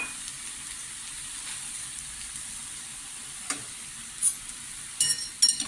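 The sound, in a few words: stirring elephant foot yam stir-fry with coconut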